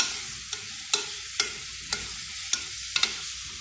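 Diced vegetables and leftover chicken frying in a pan, a steady sizzle broken by sharp stirring scrapes and clinks about every half second, close and moderately loud with no talking.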